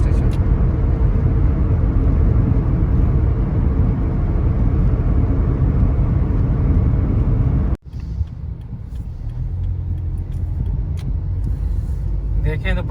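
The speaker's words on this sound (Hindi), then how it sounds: "देखें दुबई में ट्रैफिक कितनी ज़्यादा होती है, बहुत ही ज़्यादा ट्रैफिक होती है जी" Heavy road traffic in Dubai near a metro station, a dense steady roar of passing cars and larger vehicles, broken by a sharp cut, followed by a quieter, closer rumble of traffic.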